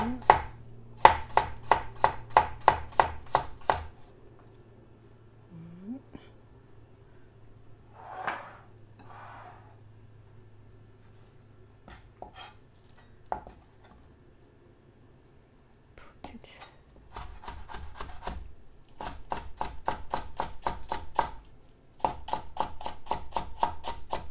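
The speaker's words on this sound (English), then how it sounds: "I enjoy cutting cucumber." A knife chopping cucumber on a cutting board in quick, crisp runs of rhythmic taps, close and clear, broken by quiet pauses with faint whispering and small handling noises.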